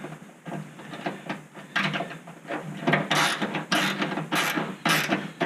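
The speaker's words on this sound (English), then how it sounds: "Take advantage of the ratcheting box end I've got on the bottom here." Ratcheting box-end wrench turning a nut on a hood lift kit install for an LST 2003/2004, a run of quick metallic clicks in uneven bursts, close and fairly quiet.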